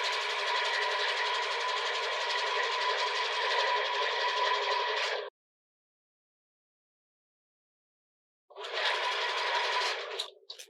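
Sewing machine stitching the neckline edge of a sports bra, a fast steady whirring run for five seconds, a silent pause, then another short burst ending in small clicks.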